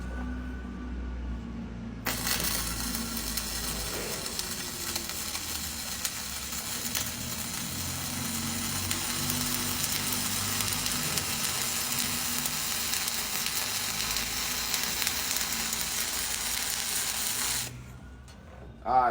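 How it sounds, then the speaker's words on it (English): Flux-core arc welding with the gun pushed along the joint: a steady, loud crackling sizzle that starts abruptly, holds evenly for about fifteen seconds and then cuts off. "So now we're gonna push it this time and see if we can get a"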